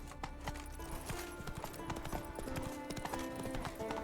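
Roach, a horse in The Witcher 3: Wild Hunt, trots with steady, close clip-clop hoofbeats over a low ambient game soundtrack, with no talk.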